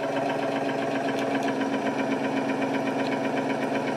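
A Sanvic nasal irrigator machine runs with a steady, continuous mechanical hum and buzz, close by and unchanging, with no talking over it.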